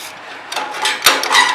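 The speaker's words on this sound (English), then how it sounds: "you want to start going through and cleaning all the gook and the gunk out of all those threads" A wire brush scrubs gunk from the threads of a trailer jack, loud close scratchy strokes in a few bursts with a metallic knock.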